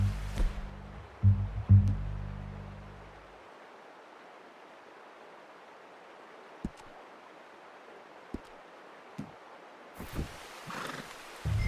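Horse in Red Dead Redemption 2 snorting and neighing loudly up close at the start, followed by a long quiet outdoor ambience broken by a few isolated soft thuds and a brief burst of rustling near the end.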